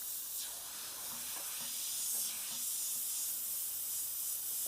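Evolution X airbrush with an 06 needle and nozzle setup spraying under raised air pressure, giving a continuous soft hiss that swells and eases slightly, faint and close with no talking.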